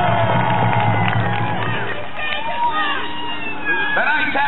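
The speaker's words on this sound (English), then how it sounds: "Let's give the horses a round of applause." Crowd noise and cheering rise from spectators at the 2009 Ohio Renaissance Festival jousting, greeting rescued horses, with a loud announcer's voice over the steady, broad hubbub throughout.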